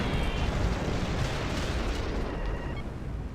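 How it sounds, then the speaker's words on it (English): Homing missiles exploding in the Descent 3 video game: a loud, continuous rumbling blast roar with crackling bursts layered on top, slowly easing off without fully dying away. "Your homing missiles versus mine"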